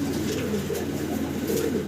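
Fancy pigeons coo in soft, throaty, rolling calls close by, overlapping in a continuous murmur over nearly two seconds.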